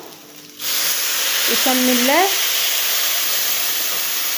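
Water poured into a hot pan of food being stirred on the stove, setting off a sudden loud, steady hiss and sizzle of steam that continues to the end; someone speaks briefly just before it starts.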